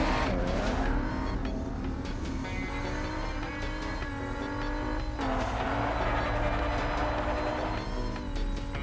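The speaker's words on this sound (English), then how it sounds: "Now let's focus on drifting." A race car in the Cars 2 video game drifts around a corner, an engine whine rising and falling with tonal revving under a steady roar, loud and close throughout.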